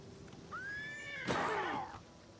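Horse neighing in the video game Oblivion: a single rising, bright whinny followed by a louder, breathy, descending neigh, close and clear over a faint background hum, with no talk.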